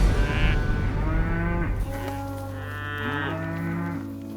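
Cattle on an irrigated Oregon hay pasture moo loudly and close, two long drawn-out calls with a falling then rising pitch, alone without talk.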